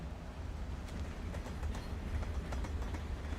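A train passes in the video game Life Is Strange, a continuous heavy low rumble with scattered rhythmic rail clicks rising and falling, fairly close and loud, with no voices.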